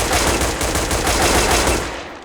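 Rapid tap-fired bursts from an AUG rifle in Counter-Strike: Global Offensive, a dense, continuous rattle of close, loud gunfire running without pause for about two seconds before cutting off.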